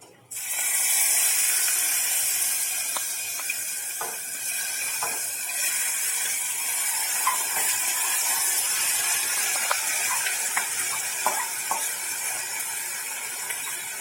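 Chopped green vegetables go into a hot pan for a green kadhi, giving a steady close sizzle with scattered clicks and scrapes of stirring throughout.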